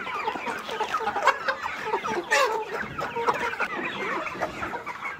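A flock of Tiger-breed chickens clucks busily while eating fermented corn feed, a dense overlapping chorus of short close clucks throughout, with no talking.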